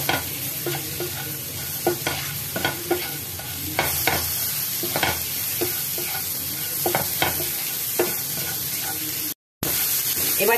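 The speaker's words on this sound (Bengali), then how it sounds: "এবার সব একসঙ্গে একটু এখানে ফ্রাই করে নরম করে নেব।" Spices sizzle in a frying pan while a spatula stirs and scrapes them, a steady close hiss broken by repeated tapping scrapes and a moment of silence near the end.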